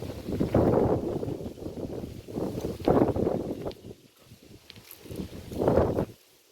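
Gusty wind roars across the microphone in several rushing surges, easing briefly between gusts, with light rustling underneath.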